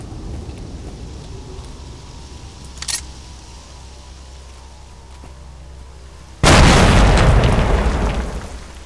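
A grenade blast in a first-person shooter game goes off as a sudden loud boom with a long rumbling tail, preceded by a small sharp pop over steady low ambient hum.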